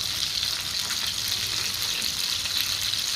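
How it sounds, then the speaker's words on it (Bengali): Fish sizzles in hot oil during iftar preparation, a steady close crackling hiss with no talk. "মাছ ভাজা।"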